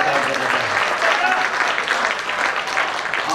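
Audience at a Hindi comic poetry recital breaks into sustained applause, dense clapping from a crowd that carries on steadily without pause.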